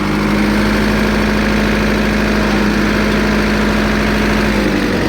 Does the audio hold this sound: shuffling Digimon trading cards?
no